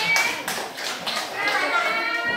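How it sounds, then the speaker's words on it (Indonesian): Classroom applause for a student group during a school teaching session, a short burst of clapping with children's voices chattering over it. "Tepuk tangan untuk kelompok D."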